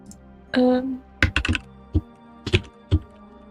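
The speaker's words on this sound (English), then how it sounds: "I hope the keyboard noises don't bother." Keys clack on a computer keyboard in a few sparse bursts of sharp clicks, close and clear, after one brief short vocal sound.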